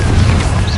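A single Confringo blasting spell explosion in Hogwarts Legacy, a brief, loud, close boom with a crashing rumble and no voices.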